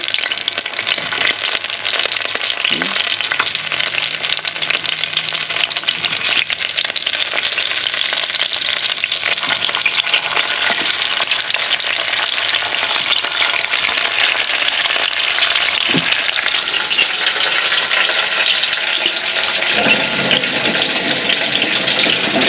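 Chicken and pork adobo cooks in a home kitchen pan, giving a steady, loud sizzle that runs without a break. Faint stirring and water noises sit under it, and no one speaks.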